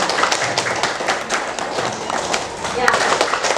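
Classroom clapping for a student during a lesson, a burst of scattered hand claps from children, close and fairly loud, with voices chattering throughout.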